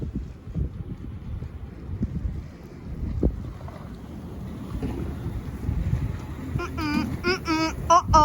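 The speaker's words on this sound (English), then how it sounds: "This is the winter snowstorm." Wind of a winter snowstorm in Wisconsin gusting past a street corner, a steady rumbling roar with flapping signs, and some faint higher rattling or creaking toward the end.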